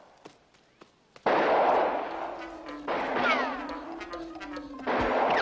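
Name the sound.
sniper gunfire in the video game Highlander The Last of the MacLeods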